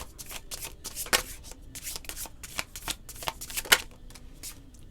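Tarot cards are shuffled by hand up close, a rapid run of crisp riffling and flicking bursts with a few sharper snaps, continuing steadily for several seconds with no talking.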